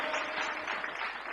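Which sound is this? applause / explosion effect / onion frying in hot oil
applause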